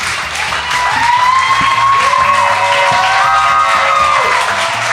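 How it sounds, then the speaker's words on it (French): Steady audience applause fills the room at a comedy show, a dense continuous clatter of clapping with some music-like tones underneath. "Bonne main d'applaudissement, Yvon Deschamps, Claude Meunier."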